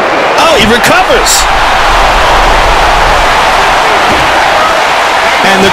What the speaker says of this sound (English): And the crowd continues to rally behind the crippler, CRIS.